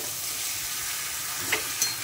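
Rice, potatoes and fish heads fry in a little oil with cumin powder, producing a steady, close hiss of sizzling and a couple of brief clinks near the end.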